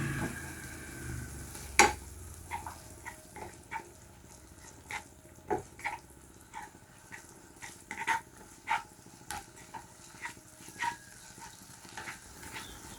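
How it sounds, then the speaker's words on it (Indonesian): Spice paste being stirred in hot cooking oil for a vegetable lodeh, with a steady soft sizzle under repeated scraping and clacking strokes of a utensil against the pan, close and fairly quiet, no talking. "sambil aku aduk-aduk sampai semua bumbunya ini matang merata"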